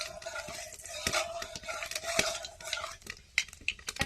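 Five-spice seeds tempering in hot mustard oil, a crackling sizzle with quick metallic scrapes and clinks as a spoon stirs the pan, close and fairly quiet.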